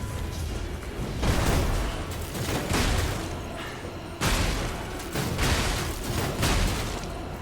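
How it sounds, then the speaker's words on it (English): A boss in the video game Lies of P unleashes an explosion attack, producing two heavy, roaring blasts with long noisy rumbling tails, loud and continuous across the stretch. "He does the explosion on this one."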